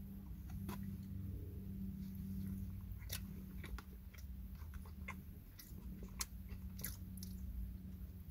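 A White Castle 1921 slider burger is chewed close to the mic, with a steady run of soft, moist bites and crunchy clicks under faint background hum.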